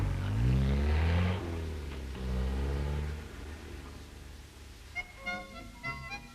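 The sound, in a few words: Triumph team cars driving off, engines revving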